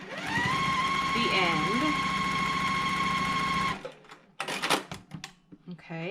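A sewing machine stitches quilt fabric for a triangle-cornered flower block in a steady, buzzing run of nearly four seconds, then stops abruptly, followed by fabric handling noises and a brief spoken voice.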